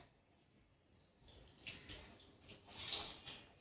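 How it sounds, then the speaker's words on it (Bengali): Water running from a tap while a child's teeth and mouth are being washed, a soft, distant splashing wash that swells louder in the second half, heard alone without speech. "জল এই দেখো ধুয়ে দিচ্ছে"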